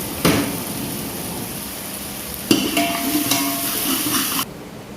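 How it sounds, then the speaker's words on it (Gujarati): Onions frying slowly over low heat in a pan in a home kitchen, giving a steady soft sizzle with a few faint stirring scrapes and a brief brighter burst midway, then cutting off abruptly. "ડુંગળીને થોડી ફ્રાય થવા દે"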